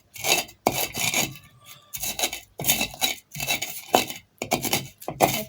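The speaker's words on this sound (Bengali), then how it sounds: "এভাবে বেটে নিতে হবে, পাটা ছাড়া এভাবে আমরা করি।" Jackfruit seeds being ground by hand without a grinding stone, making repeated rough rasping and rubbing strokes in short bursts with brief pauses, close and fairly loud.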